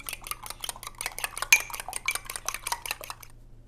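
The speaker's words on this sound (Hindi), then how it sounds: "2 मैंने लिए एग्स, 1 टेबल स्पून मैंने लिए है योगर्ट का और 1 टेबल स्पून कुकिंग ऑयल का। इसको लेके मिक्स कर लेना है।" Eggs, yogurt and cooking oil being whisked in a bowl, a quick steady run of light clinking strokes from a utensil against the dish, close and alone with no talk.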